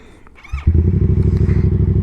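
A Yamaha XSR700 motorcycle engine catches with a thump, then runs as a loud, close, rhythmic throbbing rumble. A brief rising whine is heard just before it.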